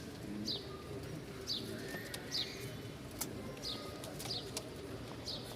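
Lal Sundori Giribaz high-flying pigeons coo softly in short repeated calls about once a second, fairly close, over a quiet background with no talk.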